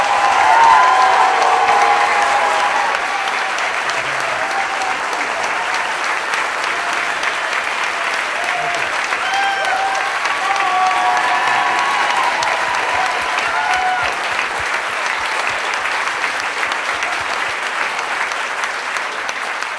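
Sustained applause from a sizable audience at a political speech event in Memphis, Tennessee, steady and fairly loud throughout, with a few faint cheers mixed in.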